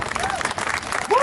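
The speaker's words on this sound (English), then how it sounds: "Give him a big round of applause." An audience at a Tunnel to Towers community event bursts into applause, a short, fairly close spell of clapping from a crowd, mixed with voices.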